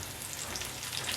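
Dried red chillies, fenugreek seeds and curry leaves fry in hot oil for a kuzhambu, giving a steady, close crackling sizzle that carries on evenly with no talking.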